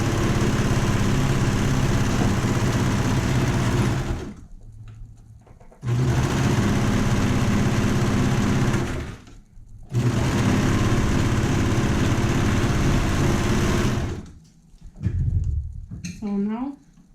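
Sewing machine stitching the side seams of a boho babydoll top, loud steady whirring runs of several seconds broken by short pauses, with a brief quieter burst at the end.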